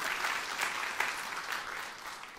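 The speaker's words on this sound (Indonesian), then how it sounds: "Tepuk tangan yang meriah untuk kemuliaan Allah" A church congregation applauds, a soft, even wash of many hands clapping at some distance, sustained throughout with a few louder claps.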